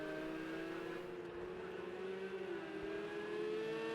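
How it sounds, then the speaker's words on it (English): Race car engines whine and drone as cars pass through in an Xbox racing game during an eSports championship qualifier, with several overlapping engine tones rising and falling continuously. "So just watching the cars coming through there."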